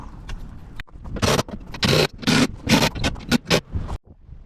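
Screws being tightened on a Cfmoto Cforce 1000 ATV bumper, a series of close, rasping ratchet-like bursts of uneven length separated by short pauses.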